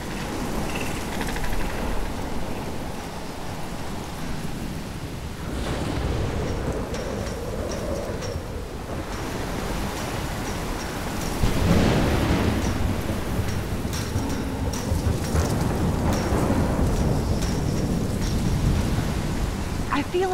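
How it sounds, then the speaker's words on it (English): Steady rain with rolling thunder in an in-game storm from Life is Strange, a continuous broadband wash with a heavier swell around the middle, loud and close throughout, with no talking. "I've never seen a storm like this in Oregon."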